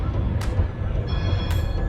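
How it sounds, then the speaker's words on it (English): A tram glides past close by a large stadium in Qatar, a steady low rumble of wheels on rails with brief high squeals and a sustained tonal whine, no voices heard. "Here comes the tram system"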